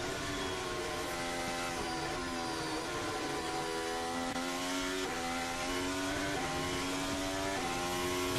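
Formula 1 car accelerating out of Spoon Curve at Suzuka during qualifying, a high-pitched engine wail climbing through several quick upshifts, heard alone at moderate distance.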